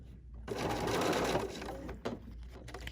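A sewing machine stitching with its needle-down function, a fast whirring run of dense stitches lasting about a second, then a pause and a short mechanical clunk as the needle stops, close and clear.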